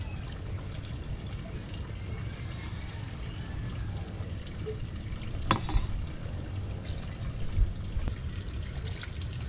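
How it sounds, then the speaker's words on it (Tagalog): Coconut milk for pichi-pichi is poured into a bowl already holding white sugar, a steady soft stream close by with a couple of faint clinks, no voices. "Maglagay naman po tayo ng 1 and 1/2 cup ng gata."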